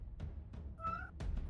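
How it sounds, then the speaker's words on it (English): A cat gives a single short meow, faint and somewhat distant, amid low background noise and a few soft knocks. "That's a cat."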